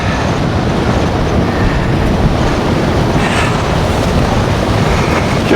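Arctic blizzard wind roars around a car in a steady, dense broadband rush that stays loud and unbroken, with no voices present.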